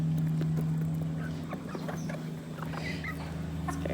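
Baby chicks make soft little peeps and chirps, with a steady low hum running underneath throughout.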